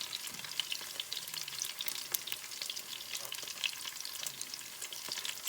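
Fish pieces, head included, fry in a pan for an Odisha-style fish curry, giving off a steady, dense crackle and spitting sizzle with no voices.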